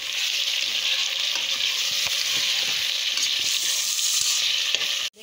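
Onions fry in a pot for a beef dish. The sizzle is loud and continuous, with stirring scrapes now and then, and it cuts off abruptly at the end.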